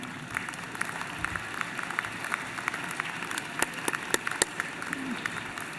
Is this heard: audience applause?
yes